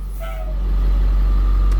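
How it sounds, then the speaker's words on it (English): Air brake hiss and pump sounds on a 2008 Blue Bird CE school bus, with a brief squeal early on and a low, steady mechanical rumble growing slightly louder and holding through the end. "Love those hydraulic brake pumps."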